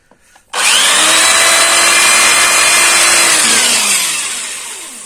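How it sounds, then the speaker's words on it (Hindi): A BUILDSKILL electric drill bores a hole through wood, starting suddenly with a loud, close, high-pitched whine that holds steady for several seconds before slowly winding down. "आपको अभी एक लकड़ी में छेद करके दिखाता हूं।"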